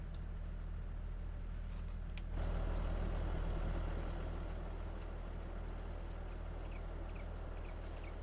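A tractor in Farming Simulator 22 idles with a steady low rumble that swells briefly, then settles back to an even hum.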